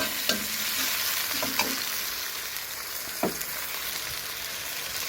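Pork stir-frying with red curry paste in a home kitchen: a steady sizzle runs throughout, broken by a few sharp scrapes of the spatula against the pan, close and fairly loud, with no talk.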